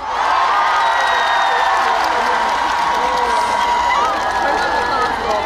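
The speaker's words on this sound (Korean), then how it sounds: "얼마나 큰 박수와 함성으로 맞아주실 건가요?" A large outdoor festival audience at the Seorak Cultural Festival closing ceremony bursts into loud, continuous applause and cheering, dense and close, as a trot singer is welcomed.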